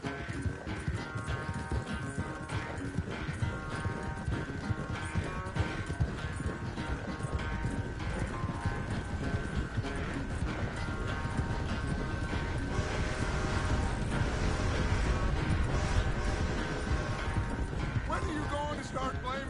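Rapid hoofbeats of a galloping horse in Red Dead Redemption 2, steady and rhythmic throughout, blended with game music and occasional voices.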